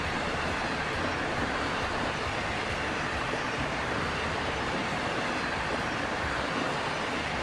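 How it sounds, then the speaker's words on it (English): An Amtrak Metroliner passenger train runs at high speed in the railway simulation game Transport Fever, producing a steady, loud, continuous roar of wheels and rolling stock throughout with no talking. "Wow, this is a very fast train."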